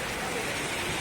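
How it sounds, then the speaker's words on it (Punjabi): Heavy rain pours down in Sangrur, a dense, even roar of falling water close by for a brief moment. "ਫਿਰ ਮੀਂਹ ਆ ਗਿਆ ਵੀ ਬੜਾ ਤੇਜ਼ ਮੀਂਹ ਆ ਜੀ"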